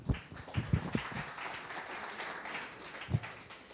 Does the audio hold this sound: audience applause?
yes